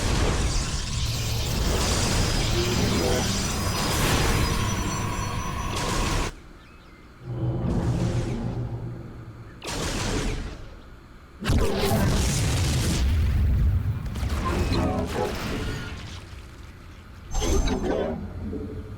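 A Protoss monolith fires across the map in StarCraft II, loud booming blasts and bursts arriving in repeated waves with sharp cutoffs and brief quiet gaps, and a voice talks over the barrage.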